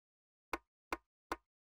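A percussion sample called Merc in a hyperpop beat plays three short, evenly spaced hollow plopping hits, dry and isolated.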